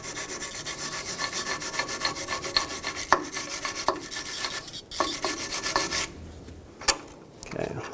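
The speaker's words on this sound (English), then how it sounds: "I'm going to start with a wire brush." Wire brush scrubbing a parking brake part on a 2009-2011 Ford F-150, a steady rasping rub in close, repeated strokes with a few sharper scrapes, no talking over it.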